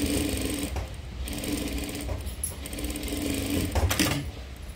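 A sewing machine stitching the neck of a paithani saree blouse, a loud, close, continuous mechanical whirr with brief pauses and restarts.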